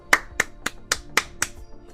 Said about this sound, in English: And we all clap for we have made it back safely